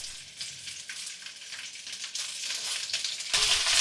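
Bok choy stems sautéing in a pan with sliced ginger and garlic over medium heat: a continuous close sizzle that grows louder toward the end.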